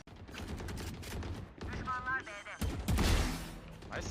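Rapid bursts of gunfire from the tactical shooter Valorant crackle through a round, several volleys stacked over game effects and excited commentary talking throughout.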